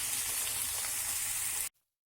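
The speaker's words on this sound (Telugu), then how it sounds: "ఇప్పుడు ఇందులో మనం కట్ చేసుకున్న బెండకాయలు యాడ్ చేసుకుందాం. ఇది ఆయిల్లో మనం కొంచెం కలర్ మారే వరకు ఫ్రై చేసుకుందాం." Cut okra frying in hot oil in a home kitchen, a steady, loud, bright sizzle that runs unbroken for nearly two seconds and then stops abruptly, with no talking.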